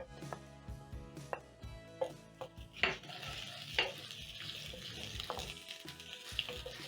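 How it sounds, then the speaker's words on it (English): Chopped onion sautés in cooking oil in a frying pan over medium flame, a faint sizzle with irregular clicks and scrapes of stirring, quiet and close. "You're going to saute your onions for around 30 seconds."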